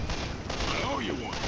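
Rapid gunfire from Left 4 Dead 2 crackles loudly through a dense, busy game soundtrack in one short sustained burst.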